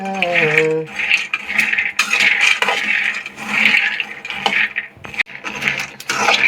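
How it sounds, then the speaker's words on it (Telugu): Peanuts roasting and being stirred in a pan for jaggery peanut chikki, giving a bright metallic rattling and scraping of nuts and spoon against the pan in repeated bursts, close and loud, with no talking. "ఈ విధంగా దోరగా వేగించుకోవాలా వేరుశనక్కాయల్ని"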